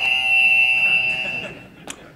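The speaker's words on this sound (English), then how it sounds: "That is my buzzer, yes." At a game show held at a tech conference, a shrill electronic buzzer sounds a steady, loud tone for over a second before cutting out, followed by a small click.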